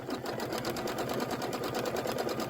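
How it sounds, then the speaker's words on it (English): A quilting sewing machine holds a slow, steady stitch on a Kimberbell Sweet Land of Liberty pillow's inner borders and flange, its rapid even needle pulses humming close and continuous with no talk over it. "it's just going to stitch slow until I let go"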